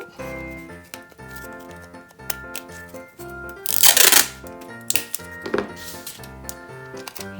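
Sellotape is torn from the roll and pressed onto a tin can in a craft setup, with a sharp ripping burst near the middle and a shorter pull after it, all under steady background music.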